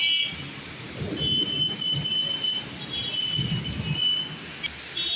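Heavy rain pours down during a Kalbaishakhi storm on a road in Bhubaneswar, a steady, dense hiss of downpour that holds throughout with no voices.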